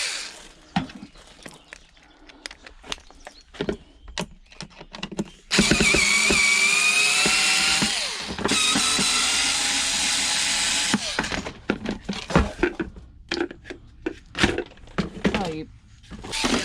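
An electric hammer tool works on scrap, a loud continuous mechanical rattle and whine lasting several seconds with a brief pause, surrounded by clanks, knocks and handling noises before and after.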